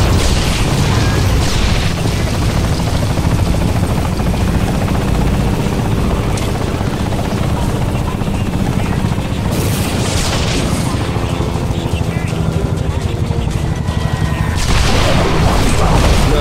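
A helicopter in the video game Bulletstorm roars continuously nearby, its heavy rotor thrum filling the scene while loud booms and blasts break in repeatedly over it.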